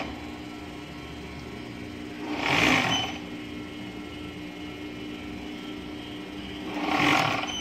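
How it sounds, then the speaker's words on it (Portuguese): An overlock sewing machine finishing the hem of a circle skirt runs in two short bursts, a few seconds apart, over a steady low room hum. "eu vou passar um acabamento aqui embaixo, na overlock"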